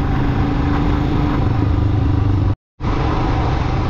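A motorcycle rides a hill road in the Kaho area, its engine a loud, steady drone that holds throughout, broken by one abrupt silent gap of about a quarter second near the end.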